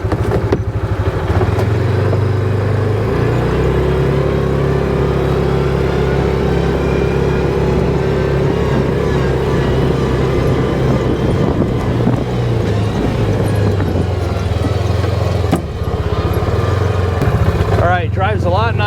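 A 2024 Massimo T Boss 550 UTV engine drones steadily in low gear over Tennessee hill country, loud and continuous with wind buffeting the microphone and someone talking over it.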